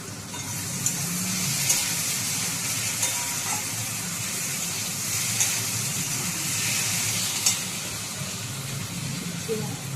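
Potatoes and onions stirred and frying in a pan for a chana masala breakfast with luchi, giving a steady broadband sizzle with faint scraping of the spatula throughout.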